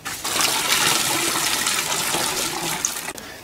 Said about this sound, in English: What I'm going to do is strain the water out.